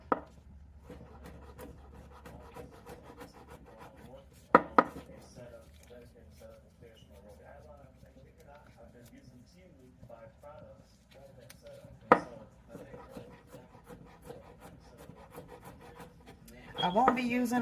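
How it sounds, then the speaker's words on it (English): Garlic chopped finely with a knife, a series of quick, light cuts and scrapes that run under steady talking, with a couple of sharper knocks standing out. "you chop up your garlic up pretty fine"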